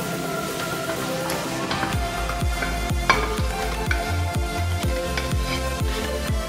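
Leek added to a sizzling pan for a Canarian-style chicken dish, with steady loud frying sizzle and rhythmic stirring and scraping thuds throughout, with no talking.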